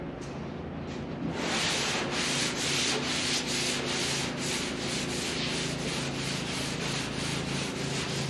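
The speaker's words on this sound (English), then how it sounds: "I'm gonna sand it back with some 320, then wipe it down" 320-grit paper sands high build primer on a Ford F-250 truck hood, a close, steady rasping stroke repeated in a continuous rhythm for several seconds with no talking.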